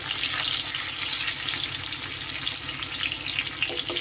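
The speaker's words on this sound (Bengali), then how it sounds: "এইভাবে অল্প অল্প করে নুন আর হলুদ দিয়ে আমি সুন্দর করে এগুলোকে কিন্তু ভেজে নেব" Slices of ash gourd fry in oil with salt and turmeric, making a steady, dense close sizzle without pause and no talking.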